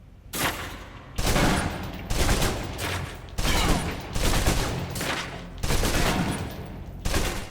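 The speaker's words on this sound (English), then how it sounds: "Now, let's move on to the submachine gun. Now let's empty the clip." In the video game Alpha Protocol, a submachine gun empties full clips in long rapid bursts, about six loud volleys of automatic fire separated by short gaps.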